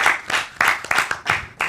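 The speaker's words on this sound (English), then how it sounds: "Let's give Dr. Mohammed a round of applause" A short burst of applause from a crowd, the clapping swelling in waves and fading out over under two seconds.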